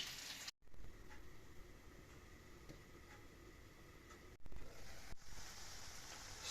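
Steady crackling sizzle of battered parasol mushroom cutlets frying in a pan over medium heat, continuous and close, with a couple of brief interruptions.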